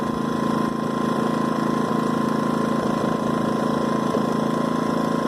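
A portable generator engine runs steadily and loud at close range, a constant droning hum with a rough mechanical chatter throughout.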